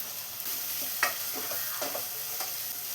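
Onions and about twenty crushed garlic cloves sauté in a pan with a continuous sizzle, and a spoon scrapes through them in several short strokes close by.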